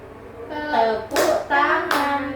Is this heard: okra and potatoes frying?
no